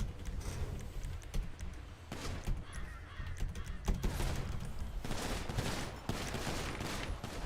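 Rapid bursts of video game gunfire hit a wall in a police roleplay shooter, a sustained fusillade of sharp cracks that stays dense and fairly loud throughout with no talking.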